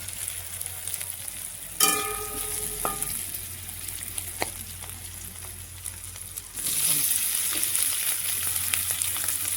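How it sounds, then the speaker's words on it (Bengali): Parboiled potatoes frying with onion and garlic in a pan, a steady sizzle with a sharp clatter and a ringing metallic knock early on, then the frying swells louder near the end. "এখন পেঁয়াজ রসুন সাথে আলুগুলো ভেজে নিব।"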